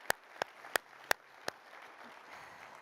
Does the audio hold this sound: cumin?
no